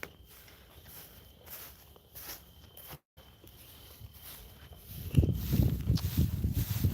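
Footsteps of an avatar walking through a wintry virtual garden world, soft and regular at first, then louder crunching steps in a steady rhythm during the last couple of seconds.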